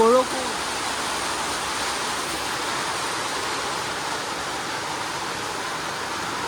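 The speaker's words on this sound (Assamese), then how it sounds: "বৰষুণ" Rain pours steadily in a forest near Jorhat, a dense, even hiss that fills the whole stretch, with a brief voice-like tone at the very start.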